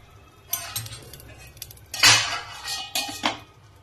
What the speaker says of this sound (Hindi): गैस के ऊपर तवा रखो, अब इसके ऊपर इसको रखो